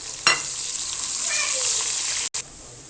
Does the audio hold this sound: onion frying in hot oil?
yes